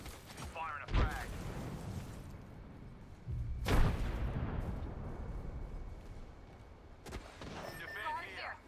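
Frag grenades blast in the Apex Legends battle game, with three sharp, heavy explosion bursts a few seconds apart over a constant rumble of game noise.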